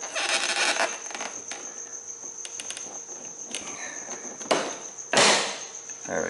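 A hand tool is cranked while prying off the side grill of an M3, giving sharp mechanical clicks and scrapes at close range with louder bursts near the end; no one speaks.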